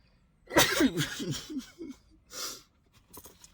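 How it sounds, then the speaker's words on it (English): A person sneezes indoors, a sharp close burst followed by breathy, voiced after-sounds, then a second, weaker burst about two seconds later, with soft breathing noises at the end. "Did I just sneeze?"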